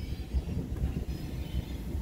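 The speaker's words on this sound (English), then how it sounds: "Pulling a manifest in the Hobson Yard right now." Manifest freight train rolling through Hobson Yard in Lincoln, Nebraska, a steady low rumble of wagons and rail noise, continuous and moderately close with no talk.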